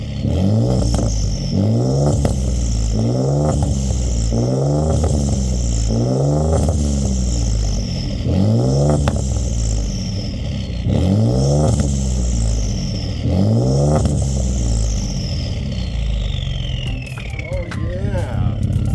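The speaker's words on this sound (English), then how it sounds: "You still hear the turbo whistle, but actually the exhaust note sounds good on this thing." A Ford EcoBoost engine with an aftermarket muffler revs repeatedly in a regular series of loud, close bursts, with faint turbo whistle and a rising whine near the end.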